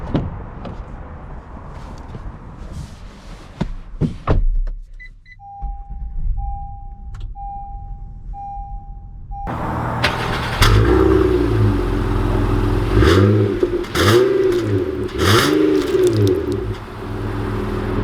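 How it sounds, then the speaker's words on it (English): A 2020 Honda Odyssey Elite minivan sets off to drive: door and power-window sounds and a chime come first, then the engine runs and pulls away, rising and falling steadily nearby. "let's take this Odyssey out and see how it drives"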